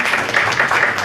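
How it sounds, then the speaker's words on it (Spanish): Audience applause welcoming a lecturer, Dr. Tomás Milton Muñoz Bravo, at a university conference on prospective policy in Puebla: a brief, loud, dense burst of steady clapping from a seated crowd, with no speech. "Él es el doctor Tomás Milton Muñoz Bravo, para que pido un aplauso"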